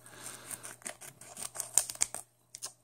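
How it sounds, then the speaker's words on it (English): Scissors snipping open foil trading card game packs, a quick series of close, crisp metallic cuts and crinkles at an uneven rhythm, fairly quiet and with no talk. "this is where I'm going to need the scissors because these are impossible to open with hands"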